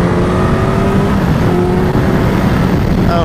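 A Suzuki GSX-S1000 GX sport touring motorcycle accelerates hard, its engine note climbing in a loud, sustained rising whine with wind rush, heard from the rider's position without speech.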